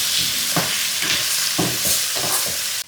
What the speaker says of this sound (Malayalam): ഇതൊക്കെ എല്ലാം കൂടി മിക്സ് ചെയ്യുക.